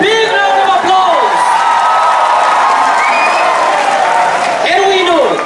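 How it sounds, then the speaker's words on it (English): An audience at a public program in Tripura breaks into a sustained, dense round of clapping and cheering that fills the space while an amplified voice talks over it. "Let's give them a big round of applause."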